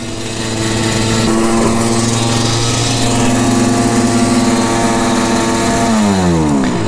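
A Simson S51 moped's small two-stroke engine runs loud and close with a buzzing, steady drone, then the pitch dips and wavers near the end as it settles toward idle.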